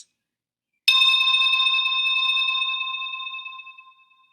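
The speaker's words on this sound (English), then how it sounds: "You'll hear the sound of a bell." A single struck bell rings for a yoga mindfulness exercise after a moment of silence, its clear, steady tone sustaining alone for several seconds and fading slowly.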